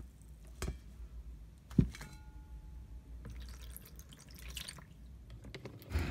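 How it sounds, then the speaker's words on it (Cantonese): Water poured and dripping into white glue while slime is being made, with a few soft drips and a brief splash heard close up against a quiet background. "咁跟住咧就可以加入水啦"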